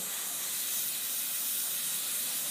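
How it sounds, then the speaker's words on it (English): Compressed air blown over enamel in a dental aesthetic bonding procedure to remove excess solvent, a steady close hiss lasting throughout with no talk. "Remove the excess solvent by blowing air"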